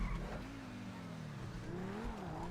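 Revving engine of a T20 supercar racing in GTA V, a steady droning whine that rises and falls with gear changes and a brief tire scrape, heard fairly quietly.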